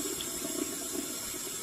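A steady stream of running water trickles continuously, like a tap left on, close and moderately loud, as a cat drinks from it.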